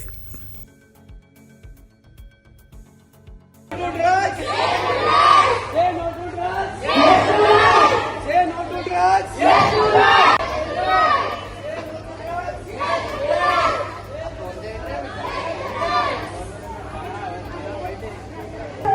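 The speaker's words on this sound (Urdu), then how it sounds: "اسکولی طلباء کی طرف سے ریلی نکالی گئی۔" A school students' anti-drug rally crowd shouts and chants in loud bursts of massed voices, swelling and fading repeatedly over a steady low hum after a quiet start.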